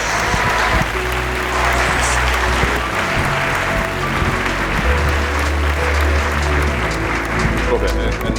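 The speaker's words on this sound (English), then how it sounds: "let's give Geraldine a round of applause." Audience applause fills the room at the close of a makeup masterclass, a steady, dense clapping from a crowd sustained throughout at close range.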